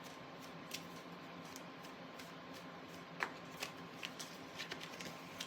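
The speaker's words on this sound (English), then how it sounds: "I'm gonna shuffle these cards" A deck of playing cards is shuffled with soft riffling and crisp flicks, a few quick card snaps standing out toward the end.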